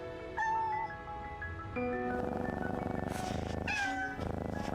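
A black cat in Genshin Impact meows several times, short tonal cries that bend in pitch, heard close over a soft musical background with no talk.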